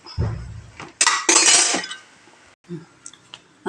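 A metal lid is set onto a pan of pathu illai keerai (greens) stir-fry, giving a sharp clatter and ringing clink with brief scraping, followed by quieter small knocks.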